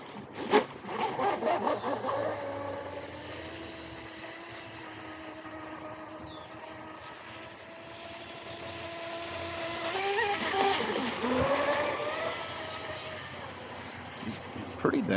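High-pitched whine of a Blackjack 24 RC speedboat, a 24-inch boat pushed toward 55 mph, running steadily at speed, the motor tone rising and falling as it passes, heard from moderate distance with a voice speaking over it.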